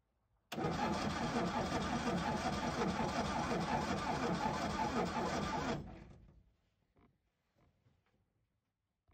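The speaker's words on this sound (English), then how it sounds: "then we'll turn the engine over" A Triumph Roadster engine under restoration with no spark is cranked by the starter for about five seconds in a loud, steady churn that fails to catch, then cuts off and leaves a few faint clicks in a quiet garage.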